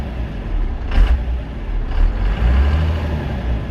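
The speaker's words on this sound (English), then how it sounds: "You can definitely hear the turbo." A Ford F150 pickup fitted with a new turbo drives along, its engine a steady broadband roar with two brief whooshing rises as the turbo spools, loud and close with no talking.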